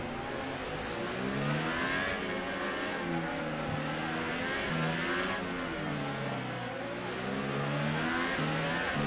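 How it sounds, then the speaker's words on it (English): Formula 1 race car engines from an F1 video game at the Monaco Grand Prix, several engines whining and revving together in heavy traffic, their pitch rising and falling continuously throughout without any voices. "Look at all these cars, lots of traffic."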